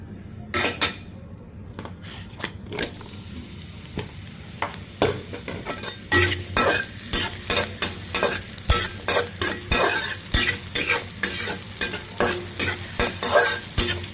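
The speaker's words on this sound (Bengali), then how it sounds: "এখন এর ভেতর কেটে রাখা পেঁয়াজ কুচি দিয়ে দেব" Chopped onion fries in oil in a pan for prawn curry, a steady sizzle under loud rhythmic metal-on-pan scraping and clanking of a spatula that speeds into a regular stirring beat, with no speech.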